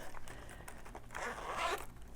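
A pencil case zipper is pulled open in one long, close rasping run that grows louder toward the end, with soft handling clicks before it and no talk.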